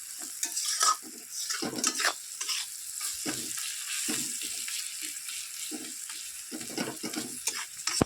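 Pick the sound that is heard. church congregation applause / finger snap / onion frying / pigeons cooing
onion frying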